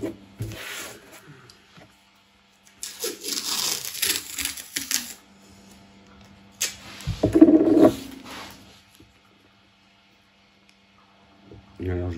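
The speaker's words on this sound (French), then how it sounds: "Je mets le scotch." Sticky tape is pulled and torn off in a few loud ripping bursts separated by quiet pauses, with brief talk in between.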